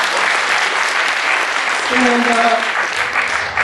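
An audience at the UNL Power Up Weekend event applauds steadily and loudly for several seconds, a dense wash of clapping with a brief voice speaking over it.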